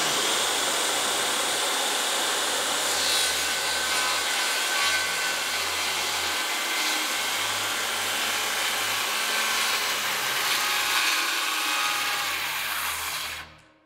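A Skil circular saw rips lengthwise through a clamped wooden board with a loud, steady whine and grinding roar that holds for about thirteen seconds before cutting off abruptly at the end.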